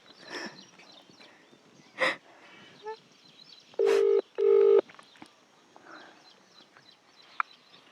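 Two short steady dial tones sound close together, with a few clicks and faint rustling around them, and no voices.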